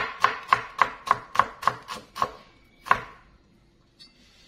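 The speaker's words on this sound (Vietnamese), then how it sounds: "Hành tím thì mình sẽ cắt mỏng ra." A knife slices shallots thinly on a cutting board, with about eight crisp, evenly spaced chops followed by a pause and one last cut, close and clear with no voices.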